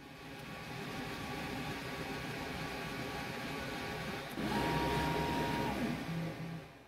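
An xTool laser cutter cuts the outline and thread holes in metal cards, giving a steady close whirring machine hum with a faint buzzing tone that shifts pitch partway through, with no talk over it.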